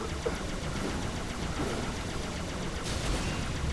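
Automatic gunfire in Halo 3: ODST is aimed at an enemy gun turret, a steady stream of rapid, muffled shots with a constant rumble beneath, moderately loud and unbroken throughout.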